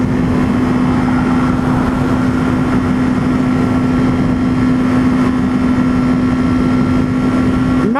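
A motorcycle engine runs in fourth gear on an interstate with a loud, steady, even drone that holds one pitch throughout, close to the listener, with road and wind noise underneath.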